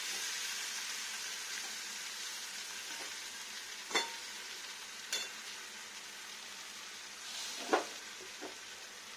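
Egg curry masala frying in oil in a pan, a steady soft sizzle and hiss with a few sharp spatula scrapes and clinks from stirring, close and fairly quiet, no talk.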